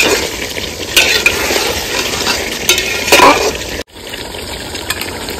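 Whole onion pieces are stirred in a pot of mutton curry: close, loud scraping and stirring strokes over a wet bubbling sizzle, with a couple of sharper utensil knocks and a brief drop-out near the end.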